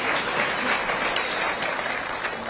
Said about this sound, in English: Please give me a clap.